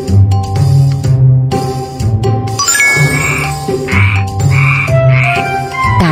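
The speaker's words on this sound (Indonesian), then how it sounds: "Katak dapat bernyanyi seperti ini." A cartoon frog in a children's game croaks in a loud, rhythmic series of repeated calls, mixed with bright jingling and ding-like chimes in the background music.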